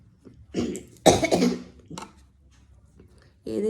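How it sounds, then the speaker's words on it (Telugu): A person with a cold coughs a few times in quick, close bursts, the middle cough the loudest and harshest, followed by a short breathy throat sound and then a voice beginning to talk. "దగ్గు వస్తూనే ఉంటుంది"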